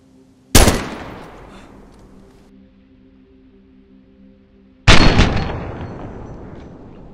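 Two loud, sharp gunshots in the video game DayZ, deathmatch mode, spaced about four seconds apart, each with a long booming decay over a steady low background hum.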